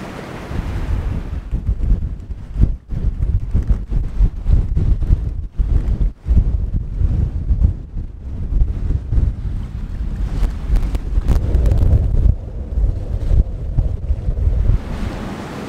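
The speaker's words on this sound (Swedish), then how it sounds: "Mitt i en liten storm här. Det blåser som 17" Storm wind roars and gusts across the microphone aboard a sailboat while waves surge and slap against the hull, loud, continuous and buffeting, with no voices.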